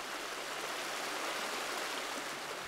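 A river flows steadily at a camp, making a continuous, even rush of water that stays constant and fairly faint, with no voices.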